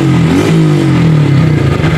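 A modified Honda Blade 125cc motorcycle revs hard through its exhaust, close and loud, the pitch climbing and holding in a steady, throaty drone with no talking.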